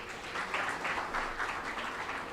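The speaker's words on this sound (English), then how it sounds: "Let's clap for him." An audience at a design festival talk gives a short, faint round of applause, heard as soft, even clapping from a distance with no speech over it.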